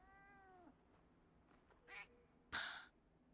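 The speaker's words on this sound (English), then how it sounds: "Oh, that's my cat." A house cat meows close by, one drawn-out call followed by two short, sharper meows in quick succession over a quiet background with no speech.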